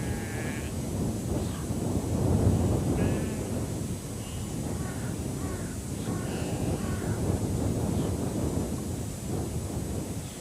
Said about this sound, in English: It's really a carrion crow with a difference.